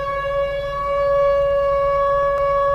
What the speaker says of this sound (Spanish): tenían sirenas que sonaban en horarios perfectamente conocidos